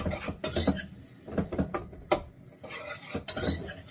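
A utensil stirs a thick flour paste in a pot over gentle heat while making a seafood chowder base, producing close, irregular clinks and soft scrapes in short bursts.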